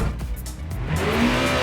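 A VRC Peugeot 406 Super Tourer in a racing sim, its engine droning and climbing in pitch with tire squeal and skidding over the top, loud and steady without speech.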